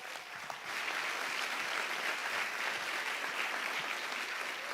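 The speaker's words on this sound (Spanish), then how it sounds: "Fuerte el aplauso para él." Sustained audience applause for a comedian taking the stage at a stand-up show, a dense steady wash of clapping that holds at even loudness throughout with no voices over it.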